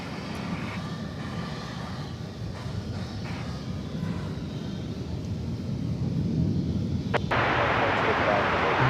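A jet airliner coming in to land at DFW Airport, heard as a steady broad engine roar that grows louder toward the end, with a brief click near the close and a voice speaking faintly under it.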